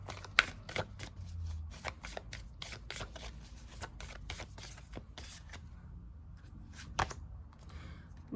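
Tarot cards handled and drawn from a deck, a dense run of crisp snapping riffles and slides close by, with brief pauses between bursts.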